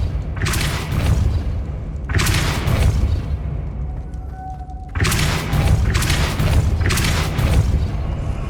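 Depulso spell casts in Hogwarts Legacy, heavy booming thuds repeating in loud bursts with brief rumbling tails, several blasts over a sustained low roar.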